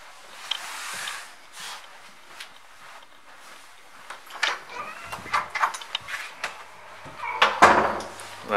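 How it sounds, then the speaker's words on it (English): Soft-close wardrobe doors in a bedroom of a five-bedroom shared house glide and settle shut, producing a scattered series of quiet knocks, slides and muffled thuds with gaps of near silence between them. "And the doors have soft shutters"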